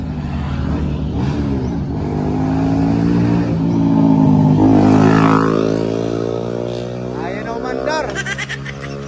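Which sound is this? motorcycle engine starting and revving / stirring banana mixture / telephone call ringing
motorcycle engine starting and revving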